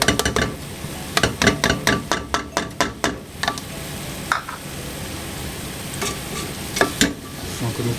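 A spoon or spatula scrapes and knocks around a pot of salted pig tail stew seasoned with onion salt and garlic salt, a close, rhythmic run of strokes over a soft sizzle that thins to occasional taps.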